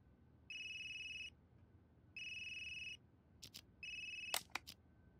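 A phone in the game Unheard rings in three evenly spaced electronic bursts, each lasting under a second, followed by a few sharp clicks and taps near the end, fairly quiet overall.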